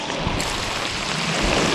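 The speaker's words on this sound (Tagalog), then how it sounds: "ang lakas ng ulan guys" Heavy rain pours in a dense, continuous hiss and patter, loud and close, with a steady wash of droplets and no voices.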